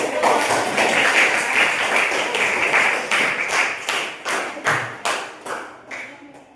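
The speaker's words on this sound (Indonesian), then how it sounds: "Baiklah, sekarang berikan tepuk tangan." A group of trainees at a counselling workshop claps hands, dense at first, then settling into a few distinct rhythmic claps before fading out.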